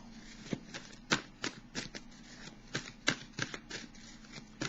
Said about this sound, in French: J'ai mélangé toutes les cartes au sol.